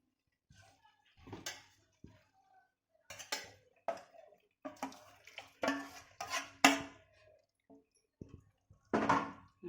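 Tandoori paneer gravy is spooned into a pot, with a metal utensil clinking and scraping in short, irregular bursts close by, separated by brief quiet gaps and no talk.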